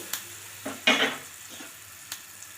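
A short burst of hissing sizzle as hot tempering hits brinjal chutney, with a few scraping stirs before and after, close and fairly quiet.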